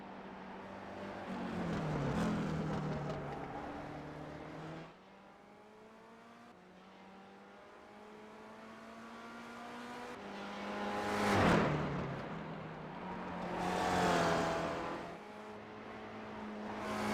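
Race cars lap the Detroit Belle Isle circuit in a sim racing video game. Their engine notes climb and fall through the gears, and two louder cars swell past nearby over a fainter background drone.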